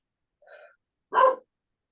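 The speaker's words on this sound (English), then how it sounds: "Somebody's dog's angry." A dog gives two short barks, a softer one followed by a louder, harsher one about half a second later, close by, with no talk over them.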